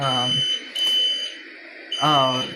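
A SimpliSafe Gen 1 smoke detector sounds a steady piercing alarm tone during a home security system test, running under a voice that speaks at the start and again near the end.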